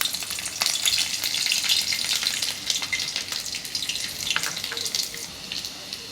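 Fenugreek seeds and whole garlic cloves frying in oil while pickle masala is made, giving a steady crackling sizzle with bursts of spatter, fairly close and alone.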